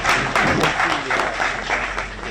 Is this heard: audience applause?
yes